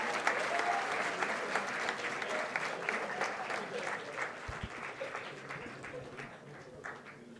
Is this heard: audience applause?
yes